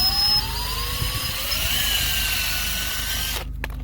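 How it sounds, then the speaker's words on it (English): A power drill bores out cut-off bolt nubs on a clogged catalytic converter, holding a loud, sustained high whine with a slowly shifting pitch and a low rumble beneath, before stopping abruptly near the end. "now I'm gonna attempt to drill them out here"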